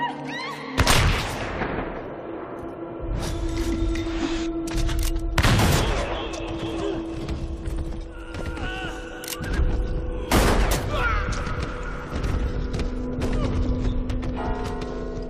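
Gunfire rings out in a western shootout, with several sharp, loud bursts of shots at irregular intervals over ambient noise and a sustained tone, and people speaking between the volleys.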